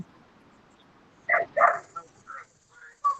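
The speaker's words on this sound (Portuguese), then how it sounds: "tem um cachorrinho aí participando" A small dog barks during an online meeting about teacher training, giving a few sharp yaps and yips that come from a distance over a quiet background, with faint talk in the room.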